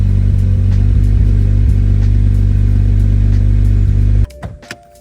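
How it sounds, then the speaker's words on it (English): A stock BMW N54 engine, not yet fully warm and fitted with an exhaust, holds a loud, steady idle with a couple of light blips, then cuts off abruptly near the end, leaving a few faint clicks and rattles. "I'll just give it a couple light revs."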